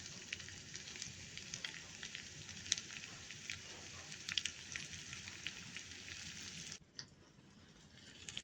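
Coconut oil heats and sizzles in a pan for a kokum curry, a steady close hiss of frying that runs until it drops off sharply near the end.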